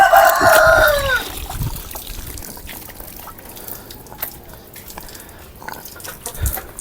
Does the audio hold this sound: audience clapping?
no